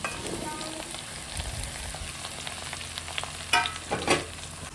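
Fresh okra frying in a pan for a tomato curry, a steady crackling sizzle with stirring scrapes and a couple of louder pan clatters near the end, close up and without talk.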